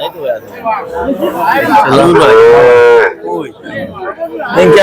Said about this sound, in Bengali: গরুগুলো কিনছেন হাবিবুর ভাই